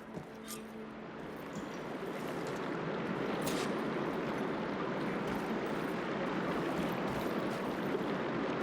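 Water flows in a room in the video game Horizon Forbidden West, a continuous rushing wash that starts softer and swells to a steady level, with a brief voice near the start.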